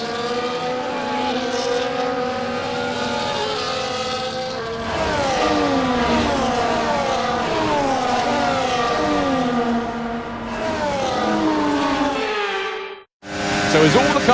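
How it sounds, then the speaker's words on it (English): Formula 1 cars on the formation lap at Montreal in the racing game F1 24, several engines droning and rising in pitch as they pass close by. The tones overlap and swell, then drop out abruptly near the end. "the formation lap is underway here in Montreal"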